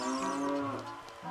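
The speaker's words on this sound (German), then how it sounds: "Ja, Kuh." A cow moos once in Ocarina of Time, a clear, close, drawn-out bovine call that slides downward and fades, alone without talk.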